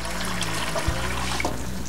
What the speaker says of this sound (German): Dann lasst ihr den Topf ein bisschen voll laufen